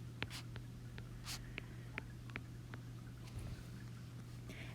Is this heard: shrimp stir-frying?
no